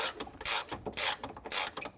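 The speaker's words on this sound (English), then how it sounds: "Using our T30, we'll go ahead and tighten that up." A T30 Torx driver ratchets a bracket bolt tight on a Bronco Trektop, giving close, crisp clicking bursts in a quick, repeated rhythm with short gaps, and no talking.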